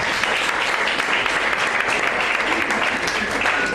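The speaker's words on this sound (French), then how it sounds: "Je crois qu'on peut applaudir le poète" An audience at a French poetry slam applauds the poet, a dense, loud, continuous wash of clapping that holds steady throughout.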